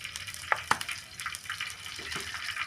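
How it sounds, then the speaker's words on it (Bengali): Chili and turmeric powder hitting hot oil in a home kitchen pan for a simple chicken curry, giving a steady close sizzle with a few sharp spits and crackles. "আর একটু গরম হলে এর উপর দেবো লঙ্কা গুঁড়ো"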